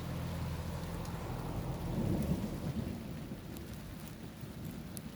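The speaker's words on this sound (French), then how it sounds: "il commence à pleuvoir" A strong summer thunderstorm with rain in Montady, France: steady rainfall hiss throughout with a deep rolling thunder rumble swelling in the middle, fairly distant, no voices.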